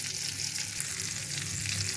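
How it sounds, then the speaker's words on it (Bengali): Chicken pieces, prepared as a crispy fry, sizzle steadily in hot oil as they brown, a soft, constant crackling hiss with no voices. "অপর পিঠটাও আমি এভাবে বাদামি রং করে ভেজে নিচ্ছি"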